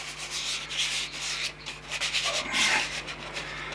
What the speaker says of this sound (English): Just round them, just sand them corners down.